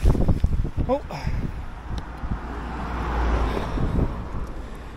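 Gusty wind on Crib Goch's knife-edge mountain ridge buffets the microphone with low rumbling roars, while a person speaks briefly at the start and a vehicle passes in the background.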